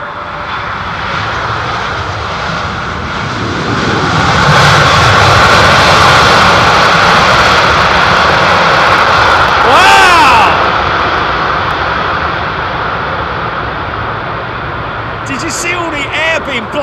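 Airliner landing at London Heathrow with thrust reversers deployed, a broad roaring engine rush swelling from around four seconds and holding strong, with a rising whine near ten seconds before easing; people talk faintly underneath.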